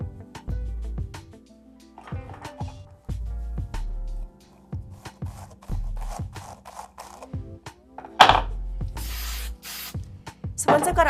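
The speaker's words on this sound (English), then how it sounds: "And then you just want to spray each section." Hairspray sprayed onto back-combed hair for a bird's nest Halloween style, in repeated short hissing bursts, close and fairly loud, with a longer spray near the end and some handling noises between.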